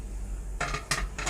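A pan is handled while an omelette is flipped: three quick metallic clatters of pan and utensil follow a short quiet stretch, close and moderately loud.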